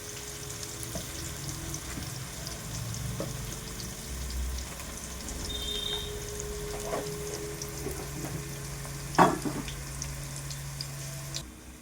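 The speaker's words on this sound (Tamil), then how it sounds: "இப்போ இந்த ஆனியன் சேர்த்துக்கலாம். இதை நல்லா வதங்கட்டும்." A soft, steady sizzle of onions frying in a pan for a Tamil home-cooked dish, with occasional stirring clatter and a brief louder knock near the end.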